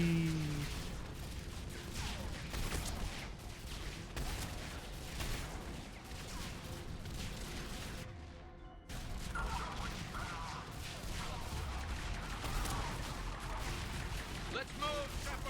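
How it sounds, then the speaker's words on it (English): Explosions and gunfire in the video game Mass Effect 3, dense bursts of shots and blasts layered with music, a brief near-silent gap midway, then the barrage resumes. "A lot of explosions going on around here."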